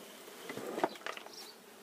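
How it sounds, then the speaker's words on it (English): Honeybees buzzing around an opened hive during an inspection, a soft continuous hum with a few brief louder passes as individual bees fly close. "So there'll be a few little bees in there."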